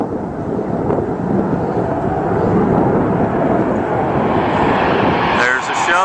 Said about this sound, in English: Take a look and take a listen to those jet engines.